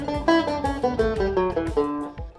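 Banjo picking a quick nine-note scale run straight up and down, ending with a short 1-5-1 figure, crisp plucked notes in a steady rapid rhythm, played solo and close.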